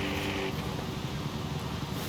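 Aston Martin Lagonda engine in Forza Horizon 5, a steady, even drone with low harmonic tones that holds constant for about two seconds, with no voices over it.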